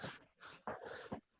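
A pet dog whimpers close by in a run of four short whiny cries with brief gaps, the third and fourth the loudest.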